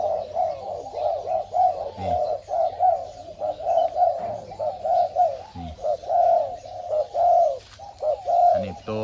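Pigeons cooing repeatedly in steady, rhythmic phrases close by, a continuous series of soft throaty coos with no talk.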